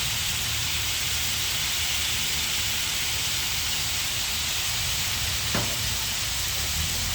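Chicken sautéing in a pan for sinampalukan, a dense, continuous close sizzle with a steady hiss and no talking, one brief sharp tick near the end.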